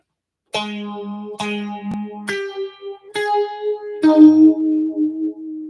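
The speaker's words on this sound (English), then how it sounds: "Here's what it sounds like at noon." Five sustained guitar notes played one after another through a phaser pedal set at noon, each with a slow, sweeping phaser swirl; clear and close with no talking.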